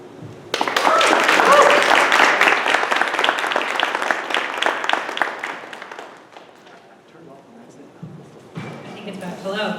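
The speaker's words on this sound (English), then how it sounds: "Can we get another round of applause?" Audience at a presentation by a speaker bursts into loud applause that carries on for several seconds, then thins out and fades, with a voice and scattered noises afterward.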